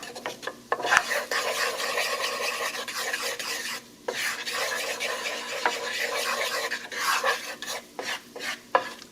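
Flour being stirred in a hot pan over medium-low heat as a roux for white gravy: continuous scraping and rasping strokes with a faint sizzle, close and steady, broken by brief pauses between passes.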